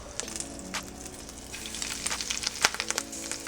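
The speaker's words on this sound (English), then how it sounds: "We're going to dip it in our egg wash just like this. Bring it over to our breadcrumbs. It looks something like this. Drop into our oil." Breaded bluegill fillet dropped into hot oil, frying with a steady close sizzle and crackle that grows busier with sharp pops toward the end.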